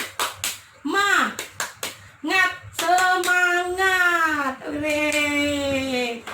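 Women in a child-protection training session do a rhythmic cheer clap, quick bursts of hand claps alternating with voices chanting together in sustained, sung syllables, fairly close and moderately loud.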